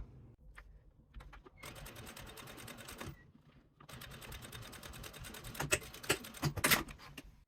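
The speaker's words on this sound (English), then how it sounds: "we will top stitch right here on the top" A sewing machine top stitches the layers of a fabric fanny pack, running in two quiet, steady bursts of rapid needle chatter with a short pause between them.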